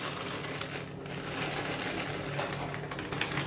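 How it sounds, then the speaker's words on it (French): Oat-flour cookie dough with chocolate chips being stirred by hand, a steady, soft scraping and mixing that runs unbroken for a few seconds with no talk. "On continue de mélanger la pâte comme ça."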